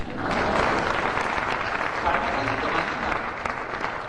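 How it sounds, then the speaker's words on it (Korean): An audience claps continuously, a steady wash of applause from a crowd filling the whole stretch. "박수 한번 쳐주십시오"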